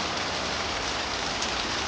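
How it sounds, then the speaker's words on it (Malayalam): Heavy evening rain falls steadily near a river in Kerala, a dense continuous hiss of drops on surfaces with no pauses or voices. "ഈവനിങ് ആയപ്പോഴേക്കും നല്ല മഴയായി"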